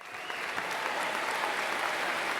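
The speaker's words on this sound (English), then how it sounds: "a big round of applause for you" Applause from a crowd, a steady, dense wash of many hands clapping at an even level throughout, with no voices standing out.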